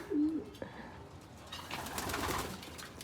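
Racing pigeons cooing, one clear close coo at the start, followed by faint shuffling and rustling.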